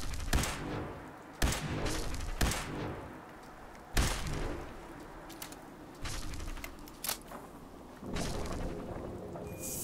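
Sniper rifle fire in the video game Fallout 4 cracks out in loud, sharp shots spaced a second or two apart, each with a short ringing tail, over a steady background rumble.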